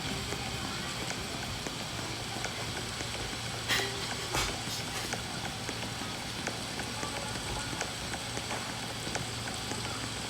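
Rain in the video game Dead Rails, a continuous soft patter of drops with scattered sharper taps and a low steady hum underneath, at moderate level with a few brief clicks.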